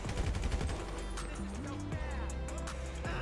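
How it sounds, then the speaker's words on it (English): Gunfire in GTA 5, quick rapid shots close by at first, then a vehicle engine revving and shifting pitch under more distant shooting. "Someone's shooting at me."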